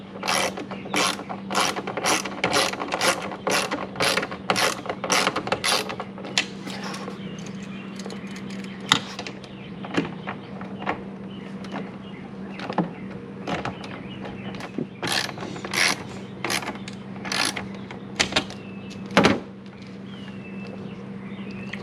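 Mirror fasteners being tightened on a 2002 GMC Sierra 2500HD, with quick bursts of ratchet clicks in fast runs, separated by pauses and a few isolated clicks over a steady low hum.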